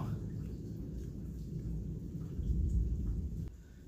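Low, rolling thunder from a nighttime lightning storm rumbles steadily, swelling briefly before easing off, heard from outdoors near a porch.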